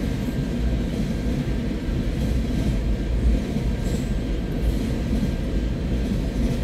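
A CN freight train rolls past with a steady, heavy low rumble and faint metallic squeals, continuous and close, with no voices.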